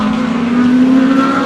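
A BMW Z4 race car at a circuit event, its engine holding a loud, steady high-revving drone close by, with no talk over it.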